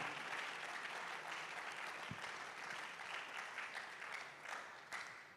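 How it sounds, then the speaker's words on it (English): An audience at the GUSA Games 2022 launch applauds the Sports Directorate, a faint, distant and continuous patter of clapping with no talk over it. "I would also like us to give a wonderful applause to the Sports Directorate"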